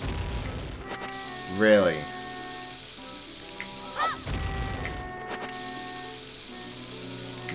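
Two bomb blasts from the Ocarina of Time: Master Quest video game, about two and a half seconds apart, each a short burst over steady game music, with a brief spoken exclamation between them.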